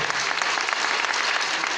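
A short burst of steady audience applause at a town festival ceremony, a dense even clapping that holds at one level throughout.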